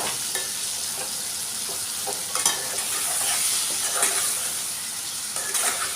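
Chopped tomatoes are stirred into a pan for a drumstick and tomato curry, giving a steady broadband sizzle with repeated soft scraping strokes close by and no talking.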